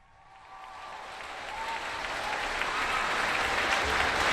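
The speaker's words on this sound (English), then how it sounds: "just listen to the applause, particularly at the end" Applause from a large audience rises gradually and swells louder toward the end, a dense steady clatter of many hands.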